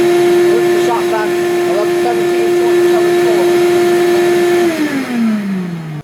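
A shop vac runs under electrical load testing on a battery and inverter setup, giving off a steady, loud motor whine that holds constant and then winds down at the end.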